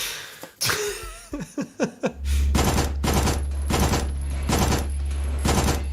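A submachine gun fires in the video game Signalis, a run of rapid, evenly spaced sharp shots over a low droning background, preceded by several quick breathy grunts and small sounds.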